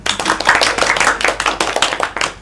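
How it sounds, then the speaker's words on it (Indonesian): Classroom applause for a student, a burst of brisk, uneven clapping from a group of pupils that carries on for a couple of seconds. "Tepuk tangan untuk Afla."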